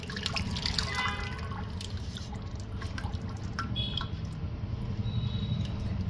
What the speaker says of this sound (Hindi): अब फाइनली वक्त है शरबत मिलाने का